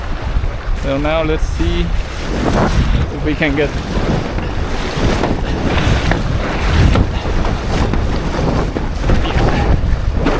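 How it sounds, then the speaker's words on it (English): Strong wind roars across the microphone while windfoiling with a Patrik HA 8.0 sail, a loud continuous rushing gust with water hiss beneath, and someone speaks briefly over it near the start. "So now there's a bit of a gust here."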